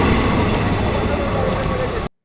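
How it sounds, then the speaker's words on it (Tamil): Train slowly pulling away on the Pamban bridge line, a steady loud rumbling roar with rattling texture that holds evenly throughout and then stops abruptly. "நம்மளை இறக்கிட்ட ட்ரெயினும் மெது மெதுவா கிளம்பி போயிட்டு இருக்குங்க"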